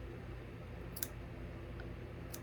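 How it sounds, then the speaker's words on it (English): Scissors trim a chenille stem for a Dollar Tree ladybug craft, giving two or three faint, sharp snips over a low steady hum. "I just trimmed off some of the chenille."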